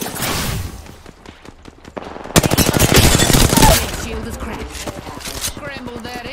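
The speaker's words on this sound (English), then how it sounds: "He's shooting at me." Rapid automatic gunfire in the battle royale shooter Apex Legends, loud bursts of repeated shots with a sustained heavy volley in the middle, alongside game sound effects.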